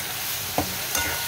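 Spices fried with fish curry in a pan give a low, steady sizzle, broken by two sharp stirring clacks of a utensil against the pan.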